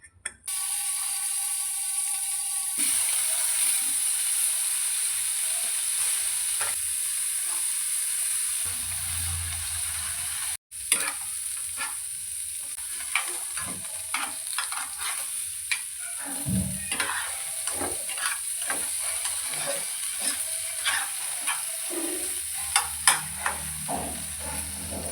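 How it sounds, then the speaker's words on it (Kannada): Paneer pieces fry in a little oil in a home kitchen, giving a steady hiss and sizzle with scattered crackles and occasional utensil scrapes and stirring clicks, one brief loud knock partway through; no talking. "ಇವಾಗ ಸ್ವಲ್ಪ ಎಣ್ಣೆ ಹಾಕ್ಕೊಂಡು ಗೋಲ್ಡನ್ ಕಲರ್ ಬರೋವರೆಗೂ ಪನ್ನೀರನ್ನ ಫ್ರೈ ಮಾಡ್ಕೊಳ್ಳೋಣ."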